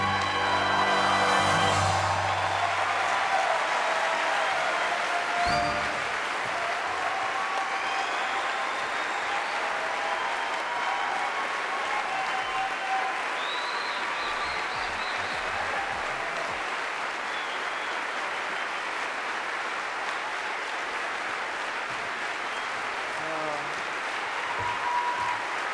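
A large awards-ceremony crowd at the Game Developers Choice Awards applauds Shigeru Miyamoto, a dense, sustained wash of clapping that carries on steadily for the whole stretch after a brief burst of music at the start.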